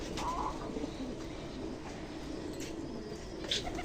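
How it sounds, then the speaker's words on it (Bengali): A white pigeon chick with an injured, torn belly makes faint, soft cooing and small chirping calls, quiet and close, over a low indoor background hum. "এই দেখো গাইস পায়রাটার বাচ্চাটা"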